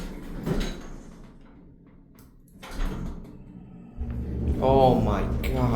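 Westinghouse hydraulic elevator doors sliding shut, a low rumbling slide followed by a heavier thud as they close, with people talking nearby before and after.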